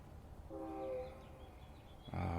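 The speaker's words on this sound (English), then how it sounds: "Ooh, the sound of a train. I love the sound of the train." A faint train rumbles in the distance, with a soft horn tone midway and a louder horn blast near the end, no voices.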